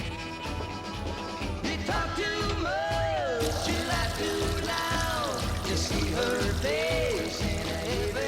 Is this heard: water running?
yes